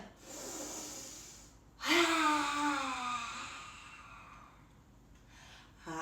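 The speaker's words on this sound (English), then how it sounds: "Let's take a deep breath in." A deep breath drawn in during a children's yoga story session, a single audible gasp-like inhale that swells suddenly and trails off slowly over a few seconds, fairly close and alone.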